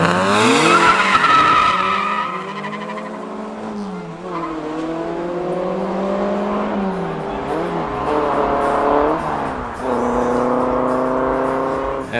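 Cadillac and Mazda Capella launching side by side in an illegal street race in Johannesburg, tires squealing loudly at the start and engines revving hard as the cars pull away, with a continuous whine of acceleration.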